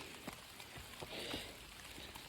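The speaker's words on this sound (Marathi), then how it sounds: "रिमझिम असा थोडा थोडासा आपला पाऊस" Light drizzle falling at a hill fort, soft scattered patter of drops on the surface, faint and steady with a few slightly louder taps.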